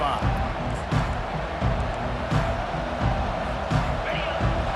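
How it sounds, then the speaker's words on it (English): Roaring stadium crowd noise in EA Sports College Football 25 swells in rhythmic surges behind a commentator's voice, with the fans loud and steady throughout. "This crowd trying to make life miserable for this offense"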